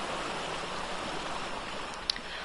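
Flowing water filling a crystal-lined cave in the game Ark, a quiet, steady broadband rush like a stream, with one faint brief tick near the end and no voices.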